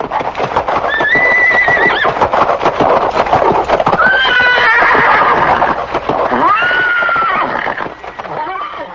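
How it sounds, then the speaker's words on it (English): A horse neighs loudly several times, shrill whinnies rising and falling, over dense clattering hoofbeats and rumbling commotion that fill the whole stretch. "he terrified everyone present with his loud neighing"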